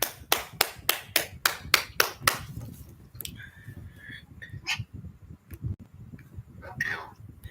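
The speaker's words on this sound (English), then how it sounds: "A round of applause for you." A short burst of about nine quick, sharp claps close to the microphone during a live online training session, followed by quieter room noise and faint tones.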